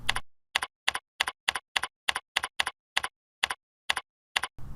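Sharp, isolated keystrokes tap out at an uneven but steady pace on a keyboard, close up, with silence between each press.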